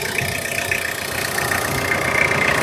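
A 2014 Tata Sumo with its engine running at idle, a steady mid-pitched rumble with a faint knocking tick, close up and slowly growing a little louder, no talking.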